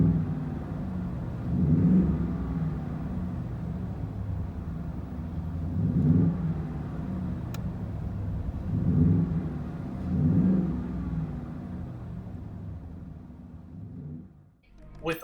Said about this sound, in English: Interior tone level with this Flowmaster True Dual exhaust is mild